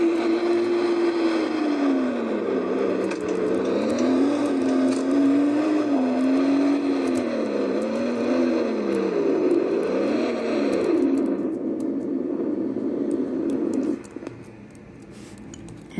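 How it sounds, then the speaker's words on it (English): A 2022 BMW M340i Touring is driven from the cabin, its engine droning loudly as the pitch climbs and drops through repeated gear changes before the sound eases off near the end, with no voices. "And there we have our POV drive of the 2022 BMW M340i Touring"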